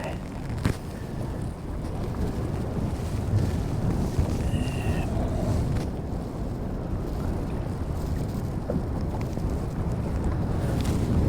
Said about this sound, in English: The wind's really kicking up now.